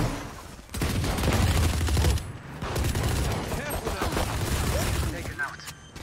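Rapid gunfire in the Valorant video game during a match, a dense stretch of overlapping shots and bursts lasting several seconds with a brief lull, loud and continuous over the game mix.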